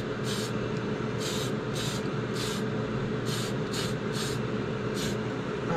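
A spray paint can hisses green paint onto the dash of a Tamiya Super Avante RC car in roughly eight short bursts with brief gaps between them.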